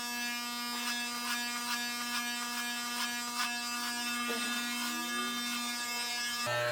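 Steady high-pitched buzz of electric hair clippers running through short hair during a home self-haircut, close and continuous, with a slight change in pitch partway through as the blades meet hair.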